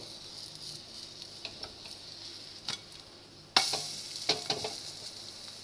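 Pudla, a savoury pancake, flipped over in a pan: quiet scraping and taps, then a sudden louder sizzle that carries on steadily once it lands, with a few more clicks of the spatula.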